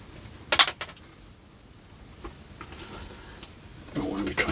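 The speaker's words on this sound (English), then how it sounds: "we'll clip off that wire. So we'll just start at the top here and just snip it." Wire cutters snip through bonsai wire on a tree, giving one sharp, close metallic click early on, followed by faint handling noises and soft rustling in a quiet room.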